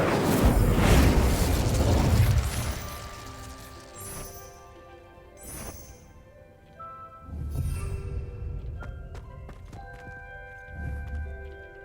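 A fire spell cast in Hogwarts Legacy: a loud burst of whooshing flame and crackle up front, then a few sharper bursts and a second flare of fire over a soft ambient music bed, with no talking.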